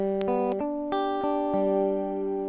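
Guitar arpeggio with plucked notes left ringing so they overlap and blur into a sustained chord, close and steady, no talking.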